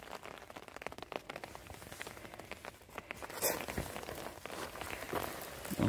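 Rain patters on the ground outdoors in the subarctic north, a soft steady scatter of drops with a few sharper taps, fairly faint and heard alone.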